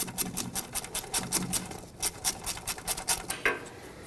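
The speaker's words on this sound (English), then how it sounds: "So we have to remove these with a socket, break this bolt free" A socket wrench ratchets a 12mm bolt out of the steering knuckle on a 2006-2010 Hyundai Sonata, giving a steady run of sharp, close metallic clicks with a brief pause midway. No one speaks.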